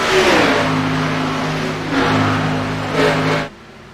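A race car in a racing video game accelerates at Atlanta, its engine droning loud and steady with a rising pitch, two surges of revving, then cutting off abruptly near the end.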